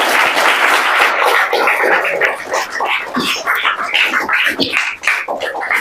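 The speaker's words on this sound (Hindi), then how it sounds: "ताली बजा दो भाई" Loud, dense audience clapping fills the room at a coaching-institute student event, a continuous close wash of many hands that swells and dips slightly without a break.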